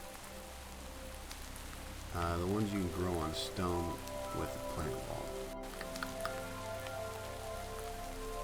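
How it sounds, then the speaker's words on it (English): Steady Minecraft rain patters as a soft, continuous hiss throughout, with someone talking over it in the middle. "Man, this server is always raining, by the way."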